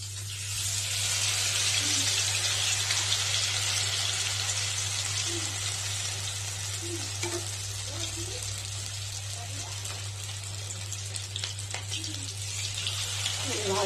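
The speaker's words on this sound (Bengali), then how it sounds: "বেসনের গোলায় ডুবিয়ে এগুলি এক এক করে ভেজে নেবো" Green chillies coated in gram flour batter fry in hot oil with a dense, steady hiss that carries on throughout over a constant low electrical hum.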